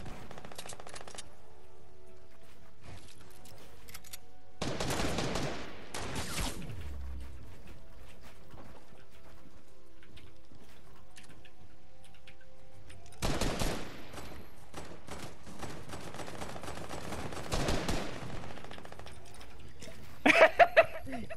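Sniper gunfire in Fortnite: a handful of sharp shot bursts separated by long quiet gaps, with a quick cluster of cracks near the end and faint laughter and voices in between.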